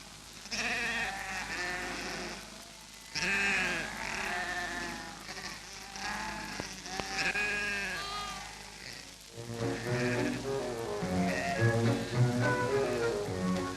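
Sheep bleat repeatedly on an Australian sheep station at Ruffy, Victoria, several animals calling in overlapping bursts, close and loud, with a flock chorus building toward the end.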